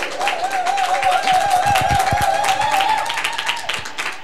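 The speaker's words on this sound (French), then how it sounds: "Je vous prie d'applaudir, s'il vous plaît, mesdames, pour nos panélistes." Audience applause for the panelists at a francophone conference on digital feminist activism, steady clapping over a held tone and some murmuring, fairly loud throughout.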